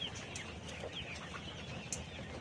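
Chickens about 85 days old cluck softly on a poultry farm, scattered short calls over a steady low background murmur, fairly distant and faint.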